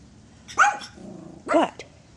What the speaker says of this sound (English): You're not thrilled about having another little doggy in the house, are you?